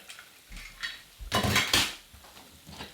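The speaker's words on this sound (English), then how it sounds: "So I'm gonna add this dal in here." Thick dal tipped into a pot of cooked vegetables for South Indian sambar, a few clinks of a utensil against the pot, then a loud wet splat and scraping as it pours in, close up.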